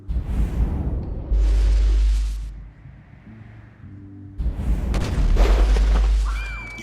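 A rifle fired in the video game GTA, a heavy booming blast with rumbling low end and a whooshing tail, followed after a quiet pause by a second burst of rumble and crackle.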